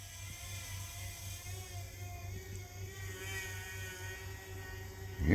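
A Fimi X8 Mini drone hovers and climbs with a steady, high electric whine and buzzing rotor hum, constant and fairly close throughout, with a louder burst right at the end.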